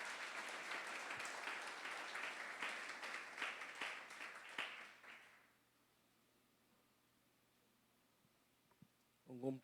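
A church congregation claps and applauds during a service, a dense wash of many hands for about five seconds that quickly fades into quiet room tone, with a brief sound at the very end.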